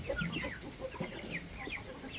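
Barred Rock and Brahma hens cluck and squawk in a backyard flock, a busy run of short agitated calls at moderate distance with no one talking.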